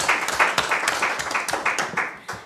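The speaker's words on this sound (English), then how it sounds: "So let's give them a round of applause." A studio audience at a televised college quiz challenge claps for a team's score, a brief burst of scattered, uneven hand claps at moderate volume with no voices over it.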